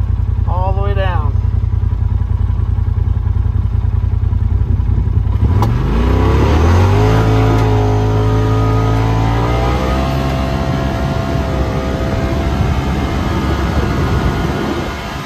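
A 2023 Polaris RZR Pro XP side-by-side on a top speed run down a straightaway, its engine droning loud and close, then revving up sharply and climbing steadily in pitch as it accelerates.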